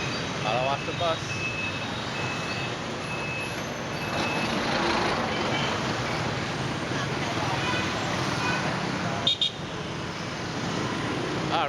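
A bus moves close by in dense Ho Chi Minh City traffic among motorbikes, its engine rumble steady and loud. Road noise blankets the scene throughout, reversing-style beeps cut in briefly, and a person talks over it all.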